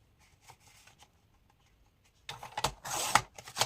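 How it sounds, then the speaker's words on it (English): A sheet of paper or card is cut through the middle, with faint rustling handling first and then a louder, close scraping cut lasting about a second. "I'm going to cut it here in the middle."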